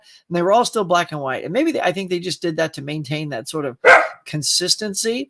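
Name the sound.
dog barking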